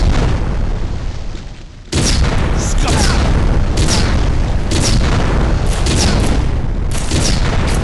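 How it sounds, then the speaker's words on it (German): A large-calibre cannon in the shooter Red Faction blasts repeatedly at walls, each loud booming explosion rolling into dense rumble and debris, with heavy continuous blasts filling the scene. "Hier ballern wir zum Beispiel mit einer großkalibrigen Kanone um uns."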